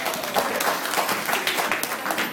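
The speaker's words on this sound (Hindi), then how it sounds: "एक बार जोरदार तालियों से हम सबों का स्वागत करते हैं।" Applause from guests at a charity fundraising dinner dance, a steady wash of clapping from a room of diners, moderately loud and continuous with no talk over it.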